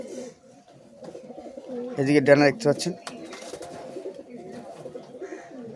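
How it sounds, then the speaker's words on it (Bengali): Very small loft pigeons, a long-flying breed kept at a home, coo softly near the middle while someone talks over them close by. "খুবই ছোটো সাইজ পায়রা"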